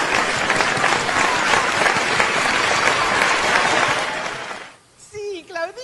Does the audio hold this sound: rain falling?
no